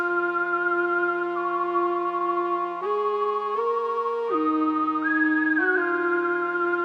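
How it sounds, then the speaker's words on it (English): Two FL Studio synth presets, a lead and a whistle, play a melody together: pure, sine-like sustained tones stepping between notes, layered in a clean electronic line with no drums or voices. "for the lead whistle, this is just a generic sound that comes with all versions of FL Studio"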